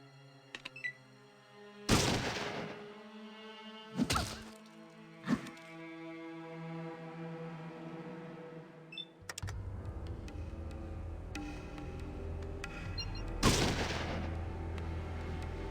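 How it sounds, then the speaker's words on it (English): A combat shotgun fires in Fallout 2, a few sharp, loud blasts spaced seconds apart, followed by clattering and a steady low game rumble, with no voices. "let's equip the combat shotgun"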